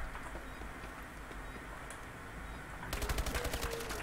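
Rapid automatic gunfire bursts out partway through a video game match, a quick run of loud shots following a stretch of low background noise.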